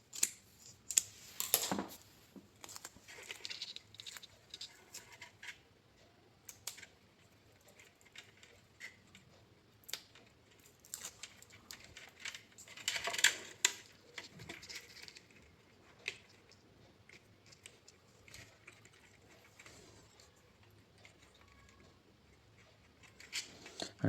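Double-sided tape is handled and cut at a workbench while building an ESP32 smart home switch, giving scattered faint clicks, snips and rustles with quiet pauses between.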